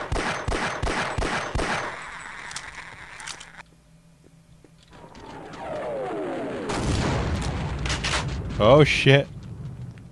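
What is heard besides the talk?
bombardment and gunfire in Half-Life: Opposing Force video game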